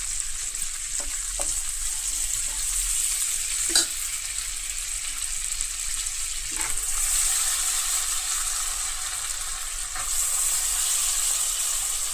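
Soaked chana dal (split Bengal gram) frying in a pan, a steady bright sizzle with a few scattered clicks of a spoon against the pan, close and even, no voices.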